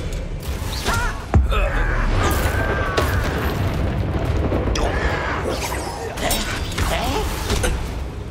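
Spell combat in the Hogwarts Legacy video game, fought in the goblin mines, with a Bombarda blast among the effects: a dense, continuous roar of magic bursts and rumbling booms, with shouted incantations over the top.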